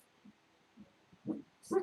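A pet dog gives a few short, low barks and woofs from a room, spaced out, with the last two louder and closer.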